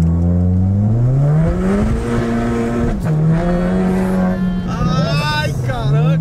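An Audi TT running on aviation gasoline launches hard under launch control, its engine note rising steadily through the revs with a brief dip at a gear change, loud and close throughout, with excited voices at the end.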